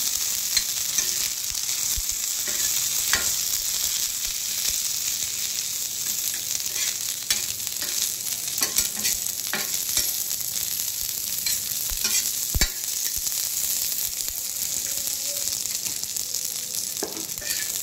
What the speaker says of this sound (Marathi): आता हे मिरच्या घालून घेऊया, आपण व्यवस्थित भाजून घेऊया।